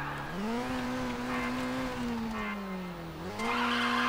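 Race car drifting in the video game Race Driver GRID: a sustained, loud engine drone that rises and dips in pitch, overlaid with continuous tire squeal and skidding, ending in a brighter burst of revs.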